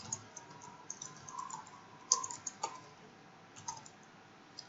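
Light, quick typing on a computer keyboard while entering text into an Excel spreadsheet, with irregular soft clicks and a few sharper key taps, quiet and close.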